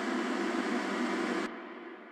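A steady, hissy Web Audio synthesized tone sounds alone, then cuts off abruptly, leaving a short, fading reverberant tail.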